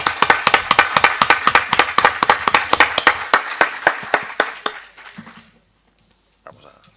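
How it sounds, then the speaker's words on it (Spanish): A lecture audience gives a speaker a burst of hand clapping, dense and steady for about five seconds before trailing off into scattered claps and a brief bit of quiet movement. "me gustaría que pasaras y que le diéramos un aplauso muy fuerte por todo lo que hace"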